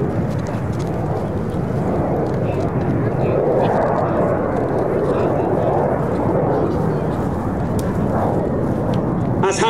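Red Arrows jets fly a display at the Sywell Airshow, a loud, continuous, rumbling roar that fills the whole stretch as an announcer talks over it on a public address system.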